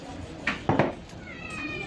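A cat meows a few times in a short burst, close by, while people talk indoors over a snack of chicken momo and fried chicken.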